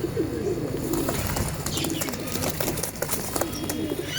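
Large pigeons coo in low, rolling bursts, close and repeated, with some chirps and light wing rustling mixed into the background.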